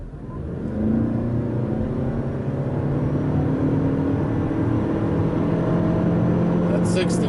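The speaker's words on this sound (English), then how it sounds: "we'll do a nice acceleration from a stop," A 2020 Toyota RAV4 Hybrid in sport mode accelerates hard from a stop, its engine drone climbing steadily and staying loud and continuous from inside the cabin, with no talking.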